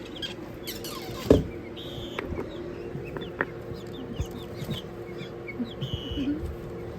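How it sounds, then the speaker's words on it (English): Young guinea fowl chirp and cluck softly around a homestead, with scattered brief calls and light scratching at moderate distance in quiet surroundings. "So the guinea fowl are getting big now. They're very flighty birds."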